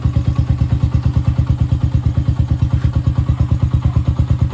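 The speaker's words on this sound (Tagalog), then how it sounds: "Yan, halimbawa itong motor na to re-revolution natin." A Honda TMX125 motorcycle engine running with a fast, regular thumping pulse, loud and close, steady rhythmic beats throughout with no talk.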